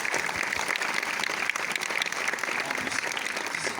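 A cinema audience at a film premiere claps continuously, a dense and steady applause at moderate volume with no voices standing out.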